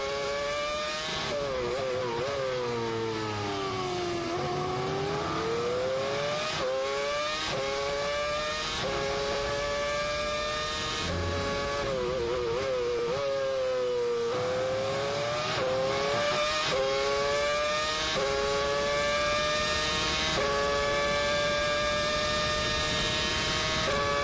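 A race car is driven flat out around a lap, its engine screaming loud and close, rising sharply through the gears and dropping back under braking into corners, over and over without pause.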